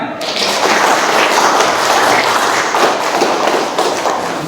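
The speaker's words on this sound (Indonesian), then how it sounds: "Tepuk tangan" Loud, dense applause fills a classroom after a student presentation, steady throughout and alone, with no talk over it.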